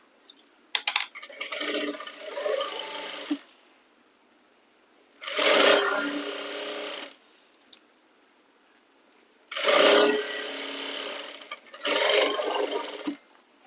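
A sewing machine runs straight stitches through cloth in four separate bursts, each about one to two seconds long, with short quiet gaps between them and nobody talking.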